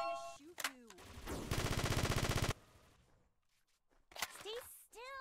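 Video game gunfire crackles in a rapid automatic burst lasting about a second, set between short bursts of excited, high-pitched talk and chirpy game sounds.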